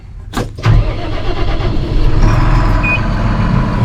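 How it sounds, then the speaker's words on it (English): A Massey Ferguson 7S.155 Classic tractor with Dyna6 semi powershift fires up nearby: a short starter crank and a loud catch, then the diesel settles into a steady, loud rumble. "We're going to shut the door, fire up,"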